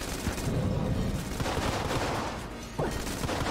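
Rapid bursts of gunfire from the video game Exit the Gungeon crackle densely throughout, a busy barrage of game shots with no pause.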